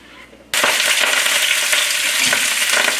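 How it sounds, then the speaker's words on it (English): Herbs such as cilantro, basil, lemongrass, leek and thyme hit hot oil in a pan for a seafood stew, bursting into a loud, dense, continuous sizzle after a quiet moment, with no talking. "It seems like a little bit more oil, but actually we need this oil to cook down all the beautiful herbs."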